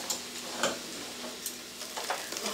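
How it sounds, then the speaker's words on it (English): Soft, steady sizzling of onions frying in a pan, with a few light clicks and taps scattered through it. "so let's just keep this frying"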